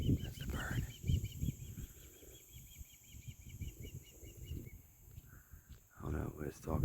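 A bird calls repeatedly in a marsh at a nature center, its bright, rhythmic chirping series fairly clear through the first half and again near the end, mixed with people talking close by throughout.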